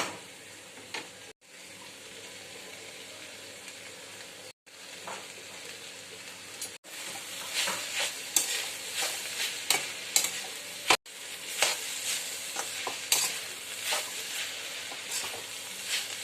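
Spoon scraping and stirring through cooked taklyachi (wild monsoon greens) with grated coconut in a pan, a soft sizzle running under irregular scrapes that grow busier and louder in the second half.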